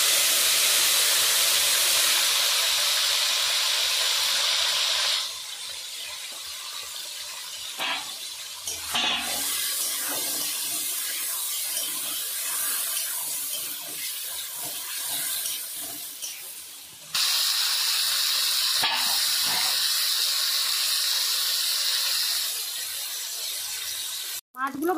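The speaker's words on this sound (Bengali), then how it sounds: "ওই তেলের মধ্যে আমি শোল মাছ ভেজে নেব।" Pieces of snakehead fish rubbed with salt and turmeric frying in hot oil in a kitchen pan give a loud, steady sizzle and hiss, broken by quieter gaps while the pan is handled, with soft clinks underneath.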